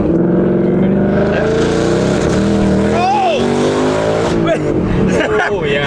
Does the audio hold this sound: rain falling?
no